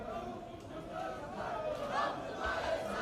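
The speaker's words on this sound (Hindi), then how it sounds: "कहीं राहुल गांधी जिंदाबाद के नारे लग रहे हैं" Crowd of supporters chanting political slogans for Rahul Gandhi outside the AICC office, a dense mass of shouting voices holding steady and swelling slightly in loud rhythmic bursts toward the end.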